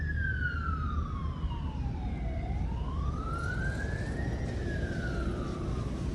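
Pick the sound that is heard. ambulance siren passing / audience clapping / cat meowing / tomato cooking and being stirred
ambulance siren passing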